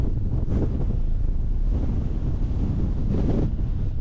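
Strong wind on an exposed hillside at Alport Castles roars continuously across the microphone, loud and buffeting in gusts with no voices.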